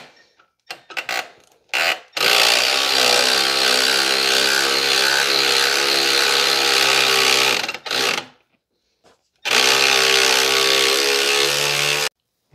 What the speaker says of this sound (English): And then loosen the top bolt here.